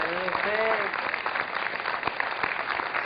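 Studio audience on a TV interview program applauds, a steady burst of clapping throughout, with a brief voice heard over it at the start.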